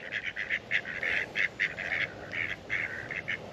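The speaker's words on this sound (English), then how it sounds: "Hi, little ducks." Ducks quack in rapid, repeated bursts close by, a busy chorus of nasal calls with short pauses between.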